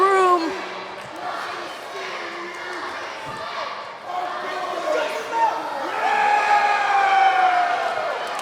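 Wrestling crowd at a Maple Leaf Pro show in Ohsweken, Ontario, cheering and shouting in a packed room, a steady roar rising in waves under continuous commentary.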